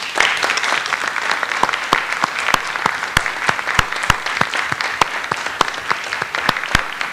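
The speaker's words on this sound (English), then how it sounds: "give them a round of applause for the good work they have presented to be here as part of this symposium" Audience at an academic symposium applauding scholars, steady sustained clapping from a crowd with sharp individual claps standing out, fairly close and alone without talk.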